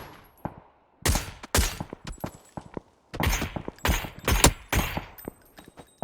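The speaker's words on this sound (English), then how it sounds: "Shots come back this way." Gunfire in an online multiplayer shooter match, with bursts of broadband shots in quick clusters, some single cracks and others rapid volleys, loud and close, with no talk over them.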